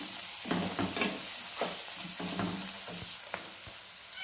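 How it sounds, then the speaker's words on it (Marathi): Curry leaves fry in a pan with a soft, continuous sizzle, broken by repeated scraping clicks of stirring, close by and fairly quiet. "आता टाकूया बघा कढीपत्ता, पण भाजूया असं मिक्स करून।"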